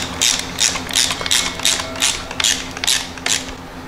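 Screws on a lighted LED license plate frame being snugged down with a ratcheting tool, about eight short, even bursts of ratchet clicking in a steady rhythm, close and clear with no talk.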